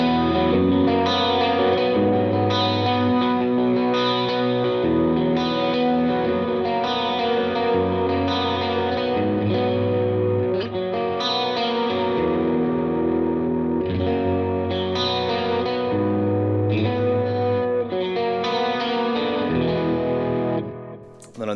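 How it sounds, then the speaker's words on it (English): Electric guitar run through a chorus effect on a Line 6 HX Stomp, playing steady, shimmering chords with a warm, slightly distorted tone that swirls and wavers, loud and continuous with no talking. "I did remember that we had a different chorus on this one"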